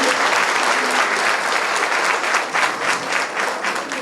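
Audience at a political rally claps loudly and continuously in a dense, steady burst that fills the whole stretch with no break.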